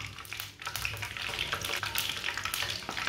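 Kebabs sizzling and frying in hot oil, a steady dense crackle and hiss with bursts of bubbling, close and fairly loud, continuous throughout with no talk.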